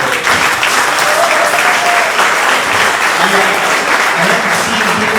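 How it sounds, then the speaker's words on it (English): Crowd applause at a ribbon cutting event, brisk continuous clapping from a gathered audience with scattered voices mixed in, loud and even throughout. "Let's just give a round of applause to Dean and the team here."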